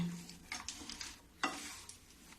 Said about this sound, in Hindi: धीमी गैस में भूंजूंगी, सारे में तिल चिपक जाएगी।